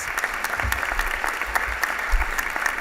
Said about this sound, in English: So give Nathaniel a round of applause